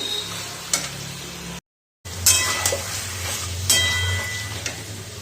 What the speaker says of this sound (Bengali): না ঢেকেই কষাবো দশ মিনিট ধরে এটাকে কষাতে হবে